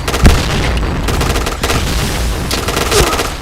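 Explosions and rapid gunfire in a first-person shooter video game, a sharp loud blast followed by bursts of shooting that continue through the clip, with no talk over them.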